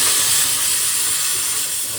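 Water hits a hot pan of tomato gravy and sets off a loud, steady steaming hiss that fades slightly over two seconds, with no talking.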